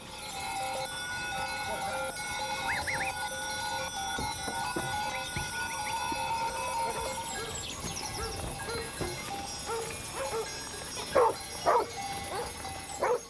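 Herd guard dogs barking in mountain pasture in Peneda-Gerês, Portugal, a few sharp barks amid distant goat bells, mostly moderate and somewhat far, with louder barks near the end.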